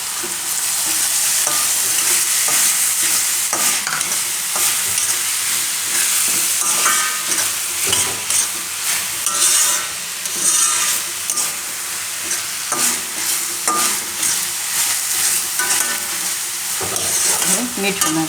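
Green garlic frying in a pan for a Gujarati green onion lotiyu, with a loud, continuous close sizzle and hiss under frequent scraping stirs of a utensil throughout.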